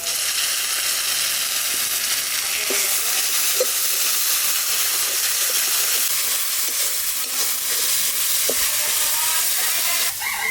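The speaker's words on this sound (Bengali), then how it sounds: "টমেটো দেওয়ার আগে আদা রসুন কাঁচা লঙ্কাটা ভালো করে ভেজে নিতে হবে" Ginger, garlic and green chili paste frying in a pan for a desi chicken curry, a steady close sizzle and hiss with a few faint stirring scrapes running throughout, with no talking.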